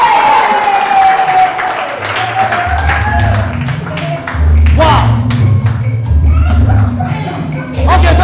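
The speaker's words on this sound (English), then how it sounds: "A round of applause, ladies and gentlemen!" An audience at a quiz show bursts into clapping and cheering after a sung performance, loud applause rising and falling in waves with music tones and a voice mixed in.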